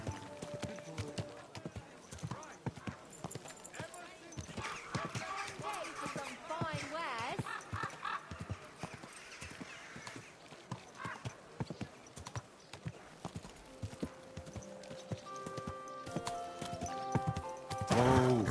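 Steady clip-clop of horse hooves with occasional whinnies, set against a busy game-like soundscape, growing a little louder toward the end.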